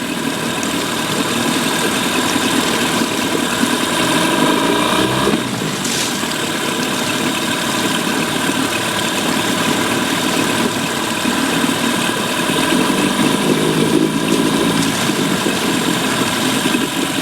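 A Mercury 8 hp outboard motor runs in forward gear with a steady, loud, close mid-pitched drone that holds even throughout, with only slight swells in the note.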